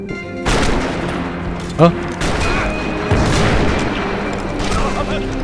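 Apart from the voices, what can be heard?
gunshots in the video game Max Payne 3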